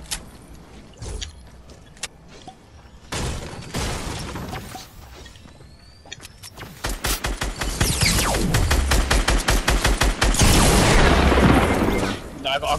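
Gunfire in a Fortnite match comes as sharp bursts and rapid volleys, growing denser and louder toward the end, mixed with game effects and people talking.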